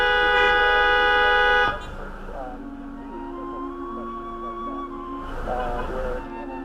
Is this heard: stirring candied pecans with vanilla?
no